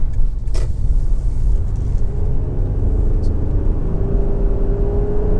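A Lexus RX 400h hybrid SUV accelerates hard on a main road, heard as a strong low rumble of road and engine noise from inside, with a faint rising whine building toward the end.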